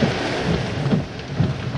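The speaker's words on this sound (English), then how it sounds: "this is the outer rain bands of a rain-wrapped tornado." Heavy storm rain from the outer bands of a rain-wrapped tornado in Tennessee pours steadily and loudly, a dense rushing wash with low thunder-like rumbles underneath.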